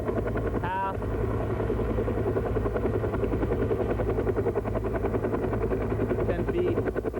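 A helicopter hovers overhead during a rappel firefighting drop, its rotor thudding loud and continuous throughout, with someone talking over the engine noise.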